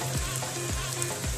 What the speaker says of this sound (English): At this point, I will reduce the gas to the minimum and stir it.